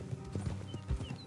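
Horse hooves clip-clopping in Red Dead Redemption 2, a few soft rhythmic thuds from a walking horse, fairly quiet and brief with faint game ambience.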